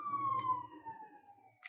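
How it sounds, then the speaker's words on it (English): Emergency vehicle sirens heard from indoors, a single faint wailing tone sliding slowly downward as it passes in the distance, ending with a brief click. "Oops, sirens."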